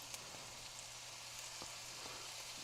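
Food sizzles steadily in a frying pan, a constant faint crackle and hiss with no talking.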